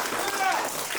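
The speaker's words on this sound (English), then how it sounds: "Give yourselves a round of applause." Elementary school children applauding in a classroom during a career day, a short burst of clapping under a voice.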